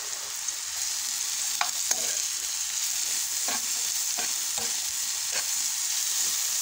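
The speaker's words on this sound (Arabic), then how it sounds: "دابا غادي نضيف الشامبينيون، نخليه حتى هو يتشحر مع البوزو" Mushrooms and leek fry in a pan with a constant close sizzle. Several brief scraping stirs with a spatula break through it, and no one talks.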